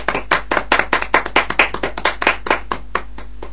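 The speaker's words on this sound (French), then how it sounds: "On va arrêter un peu d'applaudir parce que les gens vont se plaindre à côté des studios." A small studio audience claps in a brisk, uneven run of loud hand claps, close and dense at first, then thinning toward the end, with no talking over it.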